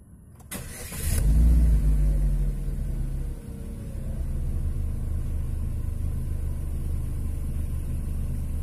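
A Chevrolet 1.5 diesel engine cranks briefly, catches with a loud burst and settles into a steady low idle rumble that continues, close up, with no talking.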